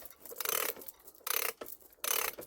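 A nut being worked off its threads on an old BSA engine gives three bursts of quiet scraping, ratcheting metal-on-metal rasping separated by brief pauses, close by and without talk.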